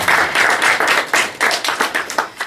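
Church congregation clapping together in rhythmic bursts, loud and near, with a brisk uneven beat that carries on for a couple of seconds.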